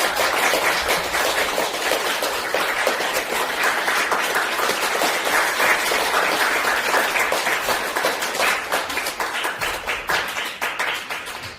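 A theater audience bursts into sustained applause, dense clapping from many hands that stays loud and steady for several seconds before slowly thinning, with no voices on top.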